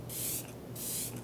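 Two short hissing bursts of makeup setting spray, each a fine airy mist from a nearby pump bottle, separated by a brief pause.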